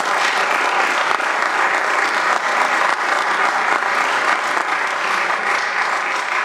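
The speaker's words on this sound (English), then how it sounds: "So a round of applause to all of our winners" A city council meeting audience applauds winners, a loud, sustained round of clapping that holds steady for several seconds with no talk over it.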